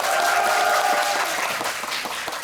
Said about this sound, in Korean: 큰 박수로 맞아주세요.